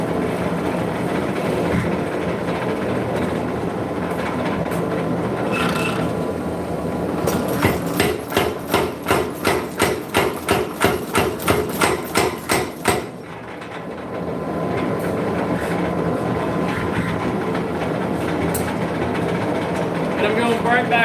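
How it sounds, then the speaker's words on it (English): Power hammer pounding chain Damascus steel at the forge, a fast run of heavy rhythmic metallic blows over a steady loud roar of machinery, with talking beneath. "it's just about time to put it back under the hammer"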